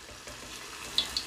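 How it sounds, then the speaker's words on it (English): Bahamian conch fritters fry in hot oil with a soft, steady bubbling sizzle and two brief sharper pops near the end. "I'm gonna finish dropping these and allowing them to fry"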